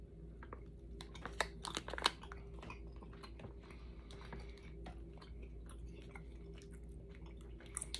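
Blue raspberry Haribo gummy bears being chewed close to the mic, soft sticky squelches and a few sharper bites over a quiet background hum.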